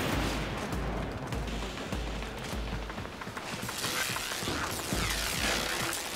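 Gunfire in the shooter game Warframe, sustained dense bursts of shots and booms layered over game music and effects, loud and continuous throughout.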